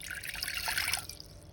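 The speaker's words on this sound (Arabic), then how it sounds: "وهنفضي فيها نص كوبايه ميه" Half a cup of water is poured into an empty cooking pot, a brief bright splashing trickle that fades out after about a second.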